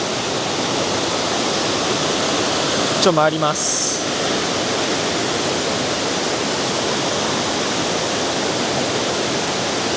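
Heavy, rain-swollen waterfall flow at Yoro Valley in Chiba, a loud, constant roar of rushing water filling the whole scene, with a brief spoken phrase over it.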